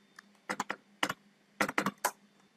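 Code typed on a computer keyboard, close crisp key clicks in two short irregular bursts with quiet gaps between.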